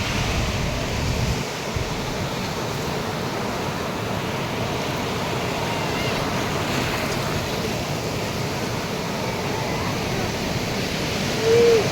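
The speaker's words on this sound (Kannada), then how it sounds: "ಇವಾಗ ನಾನಿದ್ದೀನಿ ಗೋವಾ ಬೀಚ್ ಕೊಲ್ವಾ ಬೀಚ್" Surf rolling in at Colva Beach in Goa, a steady broad wash of waves with wind rushing across the microphone, continuous and fairly loud throughout.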